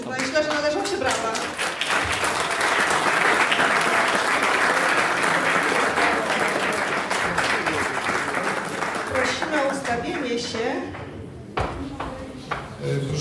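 An audience at a county business awards gala applauds the newly named laureates with sustained, dense clapping that stays loud and fairly near throughout, thinning toward the end as a voice begins speaking.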